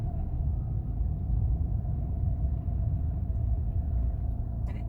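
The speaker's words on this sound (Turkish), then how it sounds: "Şimdi gazın sesini de duyuralım. Evet. Bas gaza." A car engine rumbles steadily as the driver presses the gas pedal during a driving lesson, a low continuous drone that stays close and even throughout, without clear rises in pitch.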